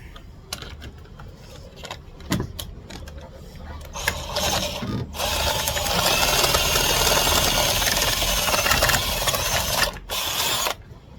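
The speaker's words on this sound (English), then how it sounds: "I got that hole drilled out to the right size now." A power drill widens a hole in the roof of a 2019 Honda Pilot while fitting a Brightlines roof rack without rails, with short bursts followed by a longer, louder grinding run and brief pauses between.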